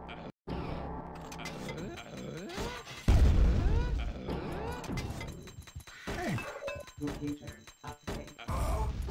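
A grenade blast in Quake II, set off to boost the player, lands as one loud booming hit amid busy game noise, with someone talking over it.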